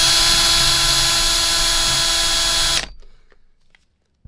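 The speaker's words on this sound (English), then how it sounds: "you could hold the enclosure, take your drill, and this is how I did it for years" A handheld power drill bores into a metal guitar pedal enclosure with a loud, sustained high-pitched whine that cuts off abruptly near the end and leaves near silence.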